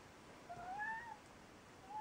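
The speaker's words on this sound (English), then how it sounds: "Stop meowing." An indoor cat meows, two or three thin, drawn-out rising cries, fairly faint and with no other sound over them.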